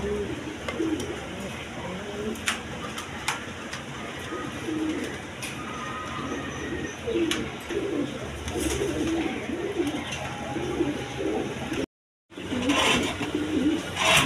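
Lahori and Golla pigeons cooing in a loft, low rolling coos repeating through steady background noise with scattered clicks, cutting out briefly near the end before resuming.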